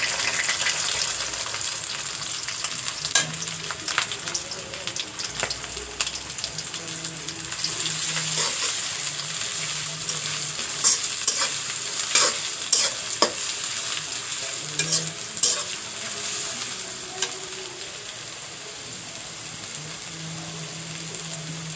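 Bay leaf and whole spices frying in hot oil, a long continuous crackling sizzle with intermittent stirring clinks and scrapes, close and steady throughout.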